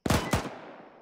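Two sharp gunshots in a military video game, fired in quick succession with a lingering echo that trails off.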